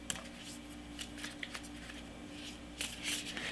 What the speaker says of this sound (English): Next, grab your wallop cards and shuffle them.